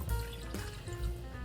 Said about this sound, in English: to this mixture, we're going to add 2 cups of water